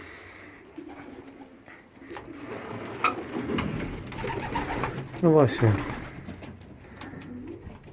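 Pigeons coo repeatedly inside a loft where birds sit on laid eggs, soft throaty calls rising to a louder burst near the middle, with someone speaking briefly over them.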